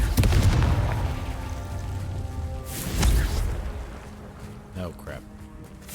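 In Hogwarts Legacy, a Confringo fire spell detonates with a deep boom at the start and a second heavy blast a few seconds later, each fading into rumbling debris while a player's voice talks over the game.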